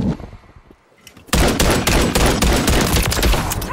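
In a Call of Duty MW3 multiplayer match, automatic gunfire erupts suddenly after a quiet second and continues in loud, rapid, sustained bursts close by.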